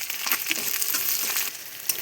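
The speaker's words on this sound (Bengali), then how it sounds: "লাল লাল করে পেঁয়াজটা ভেজে নেব" Onions and chopped garlic frying in hot oil with cinnamon and cardamom, a steady close sizzle with soft stirring scrapes, no voices.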